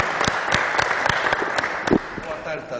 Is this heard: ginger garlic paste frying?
no